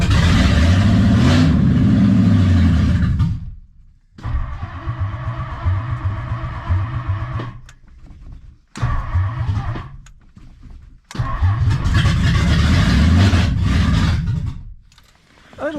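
A 1960 Lincoln Premier engine under fuel-system repair cranks, catches and runs with a high, sticking idle, loud and close, cutting out and restarting several times across the stretch with short gaps of quiet.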